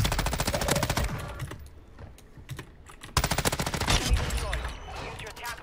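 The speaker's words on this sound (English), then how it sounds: "Someone else shooting at me?" Automatic rifle fire rattles in rapid bursts during a Fortnite solo-versus-duos match, a loud sustained stream of shots, a short lull with scattered pops, then another long burst, along with soft keyboard clicks.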